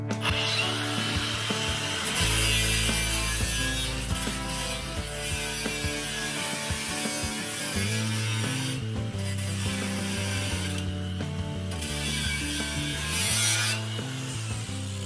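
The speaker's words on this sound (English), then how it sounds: "I'm going to cut this along this edge like I did on the other one." A 1972 VW Super Beetle's sheet metal is cut along an edge near the rear apron, making a loud, continuous, harsh cutting noise that shifts in pitch and breaks briefly twice partway through.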